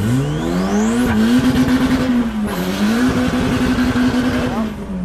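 A car engine revs hard through the gears, pitch climbing then dipping as it shifts into fourth and climbs again, loud and close with tire noise underneath.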